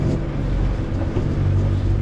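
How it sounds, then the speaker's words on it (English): Fishing boat engine running steadily at sea, a loud continuous low rumble with slight wavering, no voices over it. "My engine seems to be okay now."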